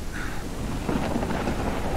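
Thunderstorm in the kayaking game Kayak VR: Mirage, steady loud rain with a rolling rumble of thunder swelling midway, no voices.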